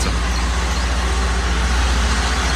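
A Mercedes-AMG E63 S with its 4-litre twin-turbo V8 idles or rumbles steadily nearby, a constant low engine drone filling the whole stretch with no talk over it.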